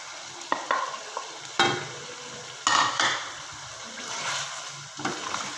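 Crushed green chili and tomato fry in a yogurt chicken korma, with a bubbling, wet sizzle and repeated spatula strokes and scrapes against the pan, heard close up and alone.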